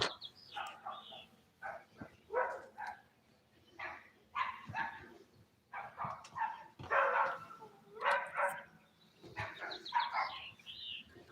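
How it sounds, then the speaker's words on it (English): A small dog barks from a house along a street in the morning, giving a long run of sharp, repeated barks and yips at moderate distance, fairly faint, with birds audible faintly behind. "Oh, I hate that little fucking dog."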